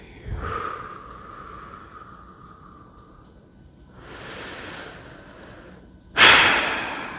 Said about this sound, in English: And then breathing out all stress, all worry.